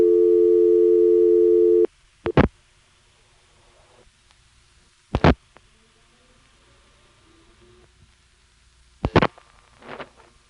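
A 1976 analog payphone recording: a steady tone cuts off after dialing, leaving a very quiet, clean telephone trunk line broken only by a few sharp clicks and thumps.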